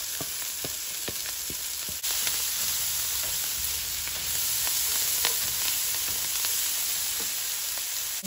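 Chopped cilantro and scallions sizzle in a hot pan with beans while cooking a beans and rice dish, giving a steady, close frying hiss with occasional light clicks of stirring.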